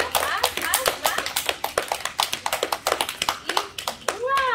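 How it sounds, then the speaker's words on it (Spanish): Children clap together during a Spanish-language art lesson, with quick, loud, fairly regular hand claps in a steady stream. Kids' voices and an adult speaking rise over the clapping near the end. "A ver, sigan aplaudiendo."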